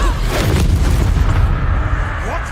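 Confringo fire spell explosion in the Hogwarts Legacy video game, a loud booming blast with a rumbling low tail that decays over a couple of seconds.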